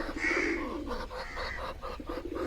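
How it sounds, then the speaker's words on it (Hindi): Pigeons coo in low, throaty, rolling calls that repeat close by, with no talking. "और ये है हमारे कबूतर।"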